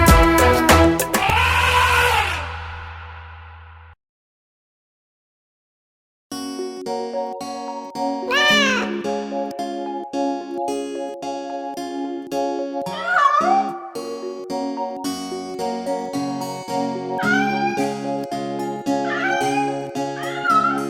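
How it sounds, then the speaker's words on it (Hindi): A cat meows within a Hindi kids' nursery rhyme: a clear meow opens, then after a short silence bright, bouncy music carries several more meow-like cries. "एक बिल्ली हमारी कैसे बैठी बेचारी, लगे हमको वो प्यारी"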